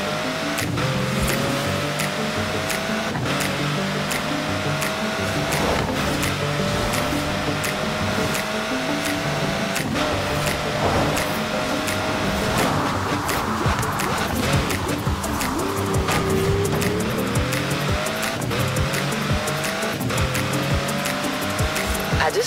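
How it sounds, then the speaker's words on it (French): A Pagani Zonda Cinque in a racing video game roars continuously, its loud engine note rising and falling through gear changes, with tire squeal on corners and no talk. "J'ai choisi la Pagani Zonda Cinque, l'un des 5 exemplaires au monde."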